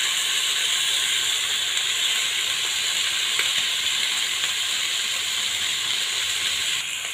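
Steady, dense sizzling and crackling of chicken feet frying in hot oil in a pan, continuous and fairly loud throughout with no voices.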